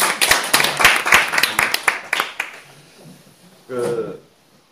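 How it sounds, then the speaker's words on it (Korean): A small audience at a Korean business seminar briefly claps for a speaker's promotion, a burst of distinct, fairly close hand claps that thins out after about two seconds, followed by a short spoken remark. "박수 한번 주세요."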